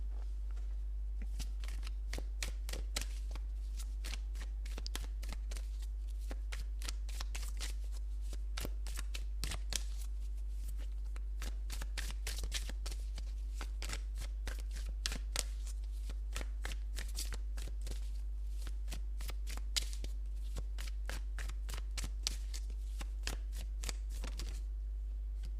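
Tarot cards shuffled continuously for a tarot reading, a close, steady stream of rapid papery riffling clicks lasting throughout, with no talking.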